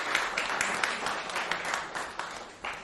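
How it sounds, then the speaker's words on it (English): Light audience applause after a talk at an arts venue, a modest scattering of claps held steady for a few seconds at moderate distance with no voices over it. "Should we give a round of applause as well"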